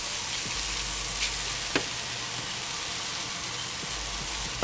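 Vegetables with salt, pepper and cumin sizzle steadily in a pan for a salsa, a continuous close frying hiss with a few soft scrapes and clicks of stirring.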